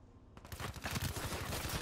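Rapid gunfire in the video game Black Ops 3 erupts after a brief quiet start, a loud, fast string of repeated shots rattling on steadily to the end.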